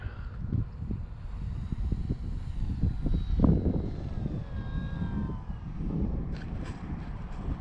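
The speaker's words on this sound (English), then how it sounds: "we're going to turn around and try to land on the runway like you're supposed to" An FMS PA-18 Super Cub 1300mm RC airplane comes in to land on a runway, its electric motor whirring steadily at close range with a few soft bumps and rattles of touchdown.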